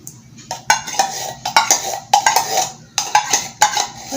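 Condensed milk being stirred into Nestle cream for coffee jelly: a spoon clinks and scrapes sharply against a bowl in quick, uneven strokes, close and clear with no talking.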